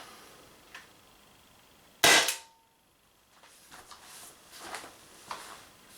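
A single sharp crack from the last shot of an Umarex Impax P68 air pistol, close and loud, followed by quiet shuffling and small handling clicks.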